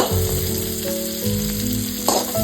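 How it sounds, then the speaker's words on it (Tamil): Ginger pieces and curry leaves frying over medium heat in a pan, giving a steady, close sizzle that runs unbroken under a low tonal hum, with a brief louder crackle near the end. "இது மிதமான சூட்டில் தான் வச்சு வதக்கணும்."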